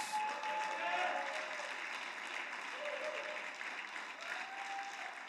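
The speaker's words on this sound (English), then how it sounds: "a round of applause for all mothers" Church congregation applauds for mothers in a sustained wash of clapping that stays steady and fairly distant throughout.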